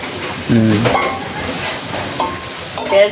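Food frying like chips in hot oil, a steady crackling sizzle throughout, with brief tonal voices and clatter breaking in near the start and end.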